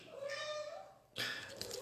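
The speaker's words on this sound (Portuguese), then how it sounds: "Se vocês ouviram o miado, é do Tonzinho, do gato Tonzinho" A house cat meows once, fairly faint and in the foreground of a quiet room, with a brief burst of noise after it.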